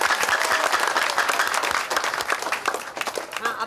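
A crowd of people at a women's rights NGO gathering in India claps continuously, a dense, fairly loud patter of many hands that holds steady and then loosens slightly toward the end.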